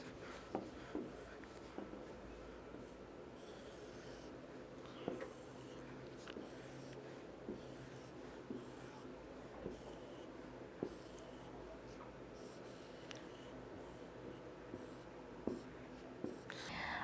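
A marker or chalk scraping across a classroom board as a square is drawn, soft rubbing strokes with occasional light taps, fairly faint under room noise and quiet breathing.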